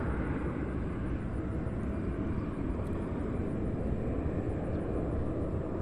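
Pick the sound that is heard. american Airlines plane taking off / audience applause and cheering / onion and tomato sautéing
american Airlines plane taking off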